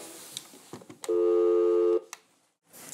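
A single sustained dialing tone lasts about a second, framed by faint clicks and button taps before and after, in an otherwise quiet room.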